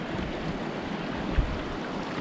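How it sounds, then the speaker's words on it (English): River water runs and ripples at a crossing on the way to Verde Hot Springs in Arizona, a steady close wash of flow with a soft thump partway through and no talking. "We are crossing this river to get to these hot springs."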